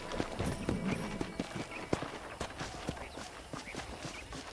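Steady clip-clop of horse hooves at a walking pace in the video game Red Dead Redemption, close and moderately loud, with faint ambient noise behind.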